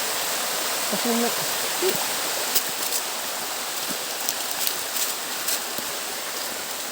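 A high waterfall keeps up a continuous rushing roar nearby. Short bits of speech rise briefly over the water early on, and small taps and splashes break through later.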